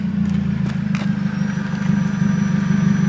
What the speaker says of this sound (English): Hold on, a quick sound of the exhaust